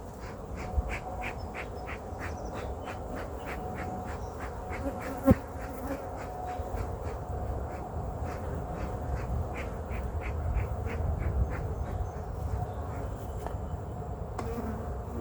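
Honey bees buzz around a hive after splits, a dense continuous hum close by, with wingbeats passing near and one sharp click partway through, no voices.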